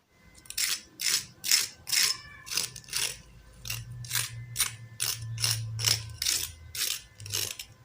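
A crispy fried potato snack snaps and crackles in a steady series of about a dozen brittle crunches, one after another. The crunches are close but quiet, and a faint low hum sits beneath them.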